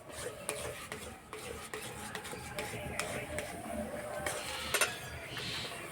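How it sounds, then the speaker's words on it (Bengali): Semolina being stirred into water in a bowl, soft scraping swirls and occasional light clinks of a spoon against the bowl, close and fairly quiet. "এই বাটি মাপ করে দেবো 1 বাটি সুজি। অল্প অল্প দেবো, এইভাবে মেশাতে থাকবো।"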